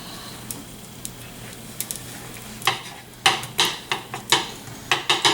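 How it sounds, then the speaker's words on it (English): Garlic cloves cooking in a hot pan on high heat, with scattered utensil clatter and scraping that grows busier and louder toward the end, a faint sizzle underneath. "Bring the heat up a little higher and cook these down a little bit, the garlic."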